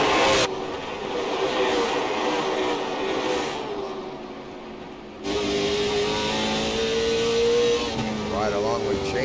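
Late model race cars in a sim-racing league event at SoBo run tightly bunched, a steady mid-pitched engine drone with rising revs holding throughout, while a commentator talks over it.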